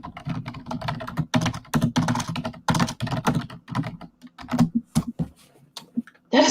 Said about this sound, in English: that is some loud, mad typing.